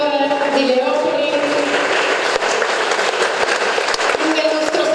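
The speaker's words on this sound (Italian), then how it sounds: "Salutiamo ancora con un applauso il governatore di Leopoli" Applause from an audience at an award ceremony honouring the governor of Lviv, heard as a steady, fairly loud wash of clapping that carries on throughout with a few sharper claps standing out.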